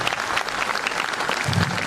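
An audience at a school annual day celebration claps steadily in a dense, sustained round of applause that carries at an even level for the whole stretch.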